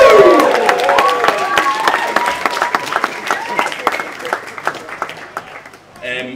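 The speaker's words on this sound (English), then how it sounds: "can we actually have another cheer for the bridesmaids from everyone?" Wedding guests cheering and clapping for the bridesmaids, a loud burst of crowd whoops and applause that gradually thins into scattered claps before fading.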